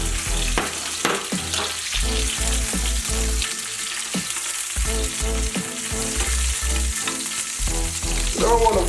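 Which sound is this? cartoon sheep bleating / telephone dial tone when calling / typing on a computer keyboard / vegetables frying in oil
vegetables frying in oil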